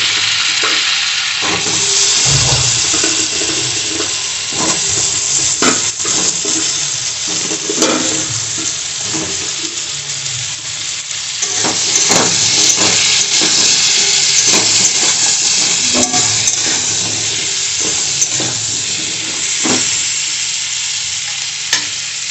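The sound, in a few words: pointed gourd frying in oil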